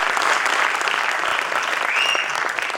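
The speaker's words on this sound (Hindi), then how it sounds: "तालियां मुंबई कर जैसी बजनी चाहिए" Loud, sustained applause from the Kala Samruddhi International Film Festival audience, a thick wash of many clapping hands that holds for a few seconds before easing slightly.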